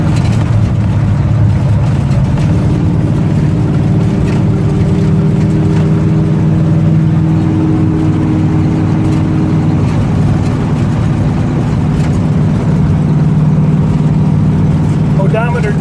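A 1963 Chevy C-10 shortbox two-wheel-drive pickup rolls down the road with a steady, low engine drone and road rumble throughout, while a voice talks over it.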